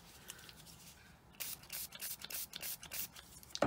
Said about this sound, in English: So this is just a bit of alcohol. I'm just going to spray some on